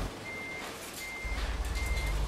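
Reversing beeps from a truck in a truck simulator video game sound as three evenly spaced, steady electronic tones over a low rumbling engine that swells partway through.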